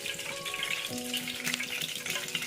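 Oil poured into a hot pan for frying homemade chicken nuggets, giving a soft steady sizzle and crackle at moderate distance, with a faint hum in the background and no talking.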